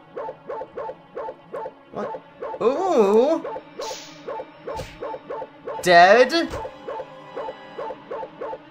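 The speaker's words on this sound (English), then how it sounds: "Then a dog barks at me, cause that's awesome!" Small dog barking in a rapid, steady series of sharp yips from a gory animated flash game, with a man's excited exclamations breaking in partway through.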